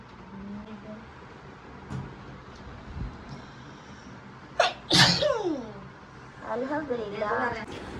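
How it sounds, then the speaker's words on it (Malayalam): One sharp, close sneeze bursts out indoors during a surprise birthday party, standing out over low room noise with faint voices before and after it. "തുമ്മലാണ് ഗായ്സ്"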